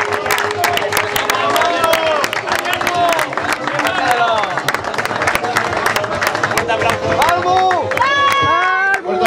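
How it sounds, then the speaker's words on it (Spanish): Spectators at a triathlon awards ceremony clap in a sustained round of applause, with sharp scattered hand claps mixing with music and voices talking across it. "Fuerte aplauso."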